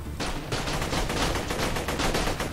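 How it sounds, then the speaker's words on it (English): Rapid automatic gunfire in the video game Borderlands: The Pre-Sequel, a dense burst of fast repeated shots that starts suddenly and rattles on loud and close. "I'm getting shot."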